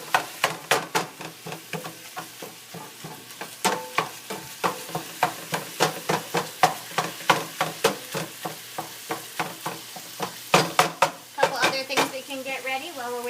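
Meat sizzles steadily in a hot frying pan while a utensil scrapes and taps against it in quick, irregular strikes, close by.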